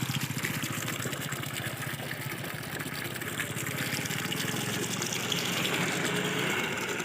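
Tap water gushes steadily into a 20-litre container. The rushing stream is loud and continuous, with no voices.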